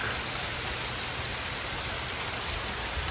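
Icy near-hail precipitation falls steadily during March in upstate New York, a dense, even hiss of small ice chunks pattering on surfaces, constant and close for the whole stretch with no talk.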